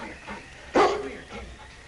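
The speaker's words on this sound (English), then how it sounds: "All right, King, on you Huskies!" A husky sled dog team gives a single sharp bark in the middle of a short stretch, with fainter yips and murmurs of the dogs before and after.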